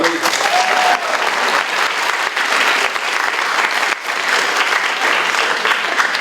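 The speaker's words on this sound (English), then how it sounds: "You can clap now." An audience at an achievement celebration applauds an award winner, with steady, dense clapping continuing throughout at a fairly loud level and no talking over it.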